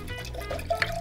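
Ménage à Trois wine poured into a glass at home for a milk-and-wine cocktail, a short, quiet liquid trickle with small splashy ripples, no talk.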